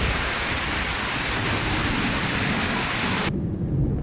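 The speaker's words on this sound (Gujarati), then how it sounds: "ગામમાં 4 ઇંચથી વધુ વરસાદ ખાબક્યો" Heavy monsoon rain pours steadily with rumbling thunder in a Gujarat village during a downpour of more than four inches, a dense, loud, continuous roar that drops in brightness near the end.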